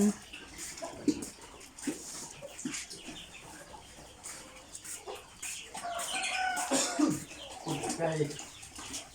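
Fighting cocks cluck and crow at close range, mixed with people talking nearby, the crowing growing louder toward the end.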